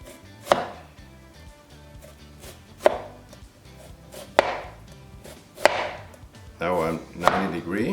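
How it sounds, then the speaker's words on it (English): A knife slicing an onion on a cutting board, about six crisp separate chops spaced a second or so apart, close and clear against a quiet background. "I cut from the outside toward the center of the onion"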